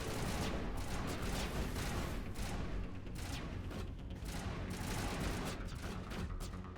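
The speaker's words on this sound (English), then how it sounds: "Who is shooting at me?" Sustained enemy gunfire in the sci-fi video game Mass Effect, a dense, continuous crackle of rapid shots and bursts that stays loud throughout without a pause.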